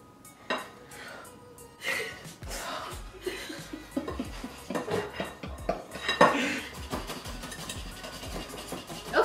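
Chocolate cake batter is stirred in a bowl with clinking utensil scrapes and knocks in an uneven rhythm, close by, while soft laughter and breathing sound faintly.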